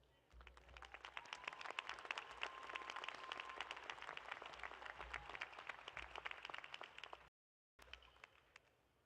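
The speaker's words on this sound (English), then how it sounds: "I'd like to welcome her on the stage with a round of applause" An audience at a university commencement ceremony applauds in a steady, moderately distant wash of clapping for several seconds, briefly cutting out near the end.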